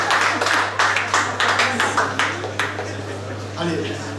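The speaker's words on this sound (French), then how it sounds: "On va l'applaudir, ça va la faire venir." An audience at a restaurant award celebration claps in scattered, uneven bursts that fade toward the end, with a voice talking over it and a steady low hum running throughout.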